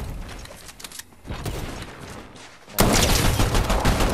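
Fortnite gunfire rattling in rapid bursts, dense and loud, jumping to a heavier, louder barrage for the final second or so.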